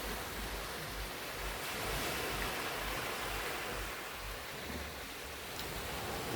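Ocean surf washing onto a private beach shoreline in the Philippines, a steady broadband rush of breaking waves that stays loud and continuous throughout, with no voices.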